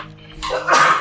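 A single loud, close sneeze with a sharp breathy burst, heard on its own without talk.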